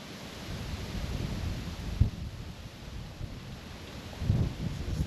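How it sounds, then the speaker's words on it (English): Wind gusting outdoors in the Douro Valley, buffeting the microphone with a steady low rumble and rustle, swelling slightly near the end and broken by a couple of faint handling bumps, with no voices. "This wind scaring me."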